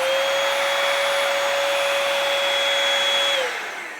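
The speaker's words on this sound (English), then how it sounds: "now you have a handheld vacuum" Dirt Devil Simpli-Stik handheld vacuum cleaner running with a steady, loud high-pitched whine and airy rush, then spinning down near the end.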